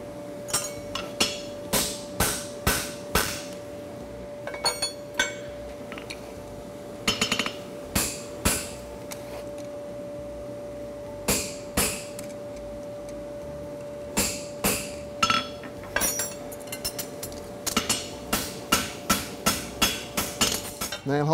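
A farrier punching a mark into a concave egg bar horseshoe at a shoeing competition gives irregular bursts of sharp metallic hammer blows, ringing and close, with pauses between runs of strikes over a faint steady hum.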